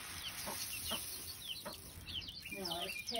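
Setting hens with chicks in a coop: soft, repeated clucks and murmurs close by, mixed with thin high chick peeps, while people talk quietly.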